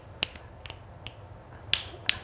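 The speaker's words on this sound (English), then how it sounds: "that's a horrible snap" Five or so sharp finger snaps spaced irregularly across a quiet room, each a crisp close click, some weaker than others.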